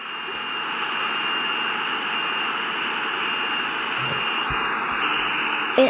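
Boeing 747 jet engines in the SimplePlanes flight game give a steady, loud whine and roar with a high tonal hiss that holds throughout, rising slightly near the end.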